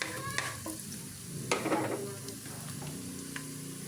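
Onions sautéing in a wok on a stove give a soft, close sizzle, with a few stirring scrapes and utensil clinks in short bursts and no voices.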